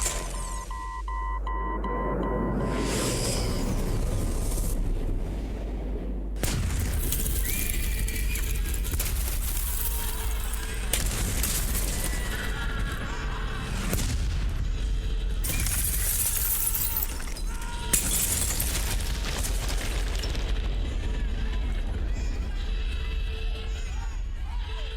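A Dalek attack with gunfire and explosions: loud bursts, crashes and shattering debris recur across the scene, over a constant low rumble, with brief voices in the din.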